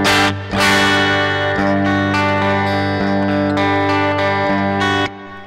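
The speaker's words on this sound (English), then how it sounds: "there's this digital distortion going on, right?" Electric guitar played through a Line 6 Helix patch with crackling digital distortion, sustained chords ringing with a harsh, fizzy, buzzing edge, loud and close, with fresh strums about every second and no talk.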